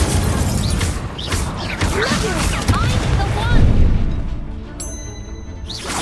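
A fire spell cast in the video game Hogwarts Legacy, a dense roaring burst of flame with booming, crashing impacts over about six seconds, loud and close, under a layer of game ambience.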